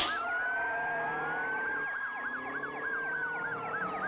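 A police car siren wailing in a chase, with a rising-and-falling wail joined by a faster yelping pattern. It is fairly close and steady throughout, with no talk over it.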